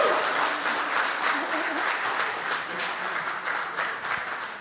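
A church congregation claps steadily through the whole stretch, a dense, even wash of applause filling a hall, with a few voices faintly mixed in.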